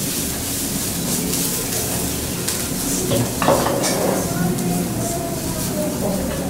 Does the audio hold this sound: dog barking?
no